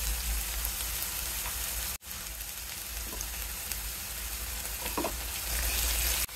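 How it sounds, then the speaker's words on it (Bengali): Garlic paste and ginger paste frying in oil for a spicy chicken pulao, a close, continuous crackling sizzle with a brief dropout and a few light stirring taps, no one speaking. "আবারও ভেজে নেব মশলা"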